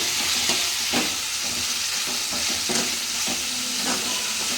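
Coconut tomato chutney seasoning with salt is stirred in a frying pan, a loud continuous sizzle with rhythmic scraping strokes of the spoon repeating roughly every half second to second.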